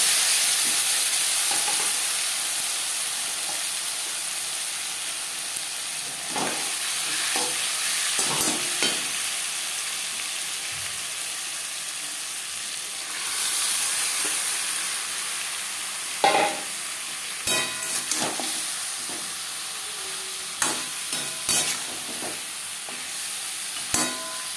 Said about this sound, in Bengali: 3 চামচ সরষের তেল গরম করে নিয়েছি। এবার দিয়ে দেব ম্যারিনেট করে রাখা মাংস।